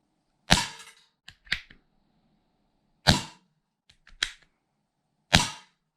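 A Schofield 4.5 mm air revolver fires Pro Magnum competition pellets at a target, several sharp, dry cracks spaced a second or more apart, each followed by a faint tick of the pellet hitting, with no talk.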